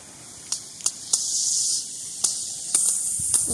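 Water sprays in a steady hiss from the nozzle of a new hose pipe, with several brief sharp bursts as the spray is adjusted.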